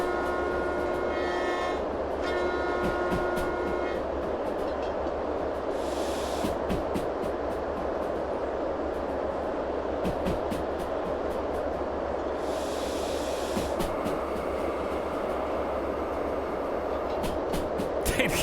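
Trains pass at a steady distance beside a fishing spot, a continuous low rumble of rail cars with brief higher screeching tones and short bursts of noise, holding an even, loud level throughout with no talking.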